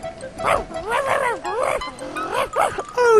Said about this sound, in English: Oh, Timmy, it's your dog.